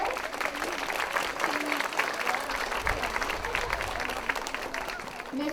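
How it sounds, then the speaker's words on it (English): Audience applause at an elementary school ceremony, a steady sustained clapping from a crowd with some voices mixed in, loud and continuous throughout. "So let's hear a big applause for Mr. Anthony Ibarra, the director."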